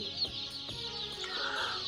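Soft, close clucking from Tiger breed chickens on a farm, a few short calls over a steady background hiss, with no talking.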